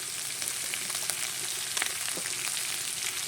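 Onions frying in oil together with small chuno fish, a steady broadband sizzle with faint crackles, close and continuous with no talking.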